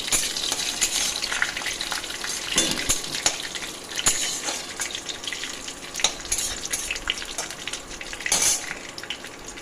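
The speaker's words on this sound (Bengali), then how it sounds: "তেজপাতাটা দিয়ে দিলাম, এদিকে সর্ষে, কালো সর্ষে ফোড়ন দিলাম" Bay leaf and black mustard seeds temper in hot oil for a Bengali dal, a crackling sizzle punctuated by sharp popping bursts and light clatter of utensils against the pan.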